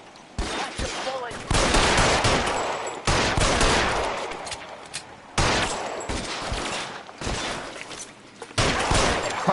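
Loud, dense gunfire from a 1940s Los Angeles crime game, with rapid bursts and volleys crackling in waves across the whole stretch, several sharp surges standing out and no pauses between them.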